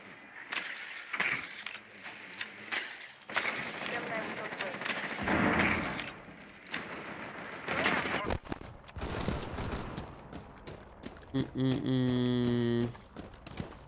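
Bursts of rapid video game gunfire crackle on and off, mixed with other in-game noises and voices talking in between.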